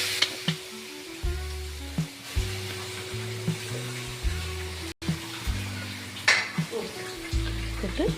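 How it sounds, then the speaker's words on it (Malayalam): Spices frying in a pan for tomato rasam as they are stirred, a continuous close sizzle with a spoon scraping and knocking at a steady rhythm, faint hum in the background. "എല്ലാം പച്ചമണം മാറുന്നിടം വരെ നന്നായിട്ടൊന്ന് ഇളക്കി കൊടുക്കണം."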